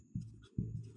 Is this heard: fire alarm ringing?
no